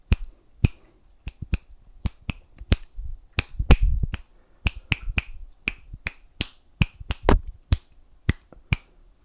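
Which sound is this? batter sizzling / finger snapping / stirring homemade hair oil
finger snapping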